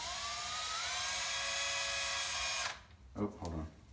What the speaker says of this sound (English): I put one of the looped ends in my drill and I just pull it tight, and you'll see what happens as I turn.